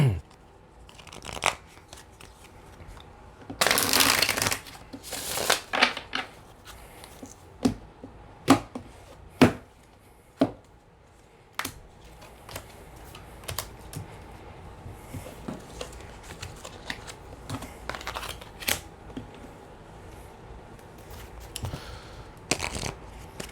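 Tarot cards being shuffled and handled in a quiet room, with bursts of riffling and sharp slaps of the deck between softer sliding and tapping sounds, close and fairly loud, without speech.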